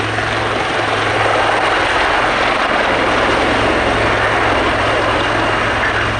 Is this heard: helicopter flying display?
yes